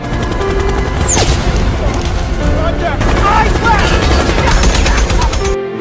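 Gunfire in a combat scene from the war film Land of Bad, a continuous loud barrage of shots and impacts mixed with dense film score and effects, with a voice in the mix throughout.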